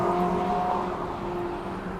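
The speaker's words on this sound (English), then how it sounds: "There goes another Ferrari." Sports cars, Ferraris and Lamborghinis, race along a Hong Kong street, heard as a loud, steady engine drone and whir that lasts the whole two seconds with no voices.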